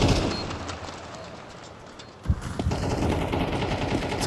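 Rapid automatic gunfire rattles in Counter-Strike 2 on the Mirage map, sharp bursts with a brief louder crack midway over continuous game noise.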